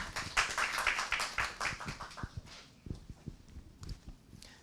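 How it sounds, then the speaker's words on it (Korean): A conference audience at a policy studies session claps to welcome a university professor as the final discussant, quick scattered clapping that starts fairly strong and thins into a few isolated claps. "박수 부탁드립니다."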